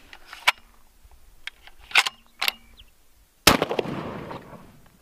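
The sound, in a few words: AWM sniper rifle shot fired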